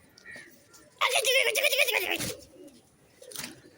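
A pigeon gives a burst of throaty cooing, close and fairly loud for about a second, followed later by a shorter call, with a voice and faint background noise around it.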